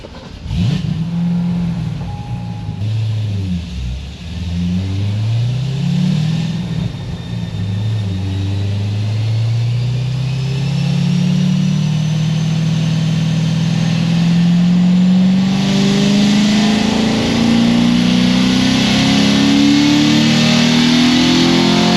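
LS7 V8 engine, rebuilt after a dropped valve, making a full dyno pull: a loud, close roar that rises steadily in pitch from a lower rumble to a high, strained wail over about twenty seconds, with no talking.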